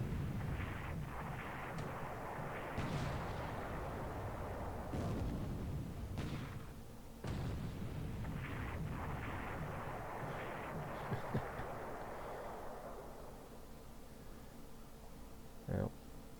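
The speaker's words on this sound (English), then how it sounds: "we've got heavy cruisers of ours bombarding" Naval bombardment by heavy cruisers in War in the Pacific, a dense, rumbling wash of distant gunfire and booms rolling on continuously at low level, with occasional sharper impacts standing out.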